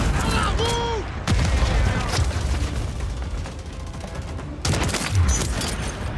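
Gunfire in the video game Call of Duty, with rapid volleys of shots and booming blasts in dense bursts, loud and close, including a brief lull before the firing resumes.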